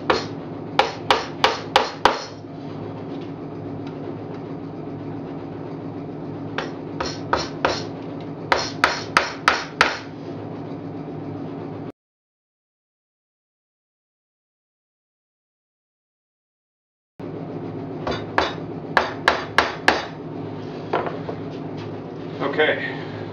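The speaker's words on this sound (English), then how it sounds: "So I'm going to just start by nailing in these frame rests." Nails hammered into frame rests on a standard wooden beehive box, sharp metallic blows in quick bursts of four or five, separated by a long silent gap, over steady background hum.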